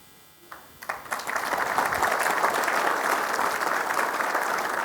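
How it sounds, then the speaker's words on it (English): Applause from delegates at a basketball federation congress plenary session, starting with a few scattered claps and swelling into sustained, dense clapping that fills the hall. "we'd be very happy if you just applaud and help us making this a great change for basketball"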